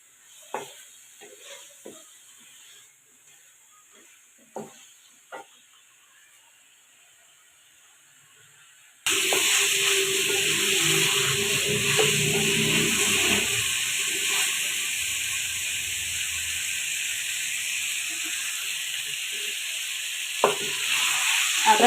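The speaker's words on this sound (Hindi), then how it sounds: "अब इसकी कर लेते हैं भुनाई।" Half a kilo of chicken with onions, for bhindi gosht, fries in a pan: a few quiet knocks at first, then a loud, steady sizzle bursts in and keeps going, with occasional stirring clatter.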